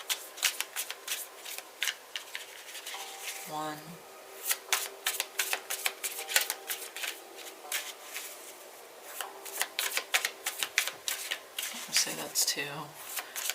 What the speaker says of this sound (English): Alright, we're going to do 3 shuffles.